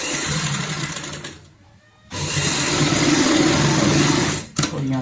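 A sewing machine stitches a ladies' bag along a marked line in a loud, rapid, continuous whir, breaking off into a brief pause before starting again, with a short stop near the end.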